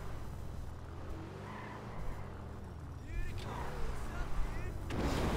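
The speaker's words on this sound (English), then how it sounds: "This is a supercar." A supercar in GTA Online revs and drives with a low engine drone, brief tire squeals and a louder surge near the end, all mixed under a talking voice and game sounds.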